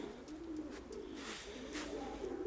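Pigeons coo inside a dovecote, a steady low murmuring rolling on without pause, close and fairly loud, with faint chirps above it.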